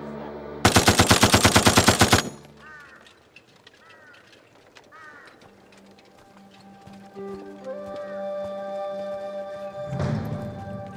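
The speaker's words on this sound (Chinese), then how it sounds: "对呀， 兄弟，打他两梭子，别多打啊，这玩意儿废子弹了还。" A loud machine gun fires one rapid burst lasting over a second in a war drama, followed by quieter background sounds and music.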